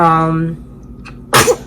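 A small child's sneeze, one short sharp burst coming just after a moment of humming or voiced sound, close and loud.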